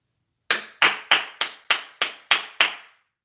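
Eight sharp single hand claps ring out alone at a steady, deliberate pace, each with a short ringing decay, a Jason Garrett style clap.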